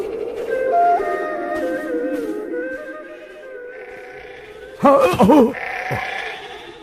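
Sheep bleating in a wavering, drawn-out call followed by a second louder, shakier bleat, close and prominent, with a faint higher call near the end.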